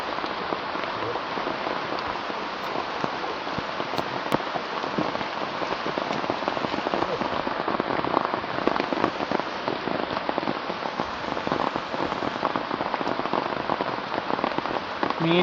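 Rain falls steadily on an open paddy field during an evening fishing outing, a dense, even patter of drops that stays loud and close throughout with no voices.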